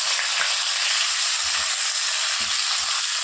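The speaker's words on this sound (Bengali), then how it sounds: "সর্ষের তেল দিয়ে চিকেনগুলো দিয়ে দেবো।" Chicken pieces fry in hot mustard oil with a loud, continuous sizzle and hiss, close up, with a few faint low bumps of stirring or movement beneath.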